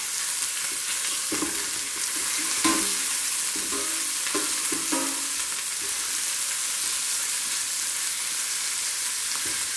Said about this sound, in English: I'm browning the side of that